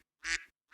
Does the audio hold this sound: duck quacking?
yes